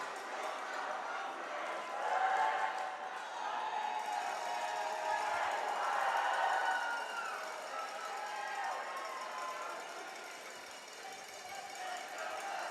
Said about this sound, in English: The atmosphere, the crowd, and the noise in a lot of our events.